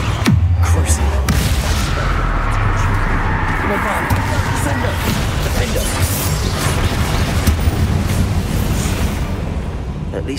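The Confringo explosion spell in the video game Hogwarts Legacy, heard as loud fiery blasts and crashing impacts within a dense, continuous roar of combat effects, with a voice calling out over them.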